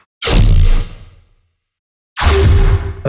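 Two separate tearout dubstep bass-layer synth hits, each a loud, gritty, distorted burst lasting about half a second or more, with a short silence between them.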